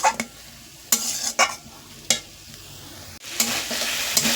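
Sizzling oil in a pan with several sharp scraping strokes of a spatula as drumstick (moringa) greens are stirred and tossed, close up.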